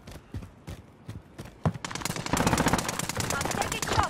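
Rapid bursts of automatic gunfire in a Call of Duty Rebirth Island match: a few scattered shots, then a dense, loud stream of cracking rounds that keeps going to the end.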